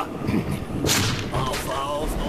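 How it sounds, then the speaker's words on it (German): Gunfire in the video game Metro 2033: a sharp, whip-like crack bursts out over a low, rumbling game background, followed by softer thuds. "Oh, ich höre schon Schüsse."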